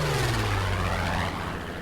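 In War Thunder, a Bf 109 fighter's loud engine roars past with a descending pitch, droning steadily then fading slightly as it moves away.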